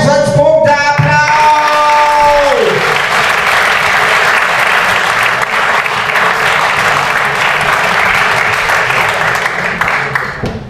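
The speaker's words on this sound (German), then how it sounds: "Applaus!" At a poetry slam in a bar, a tonal musical sting sounds briefly before loud, sustained audience applause takes over and fills the room for about ten seconds, fading slightly at the close.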